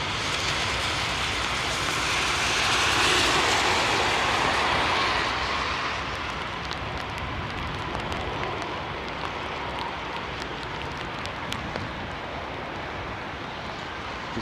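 Loud rising roar of airliner engines at TOGA thrust during a go-around at Heathrow, swelling early then settling into a steady distant rumble, with no talk.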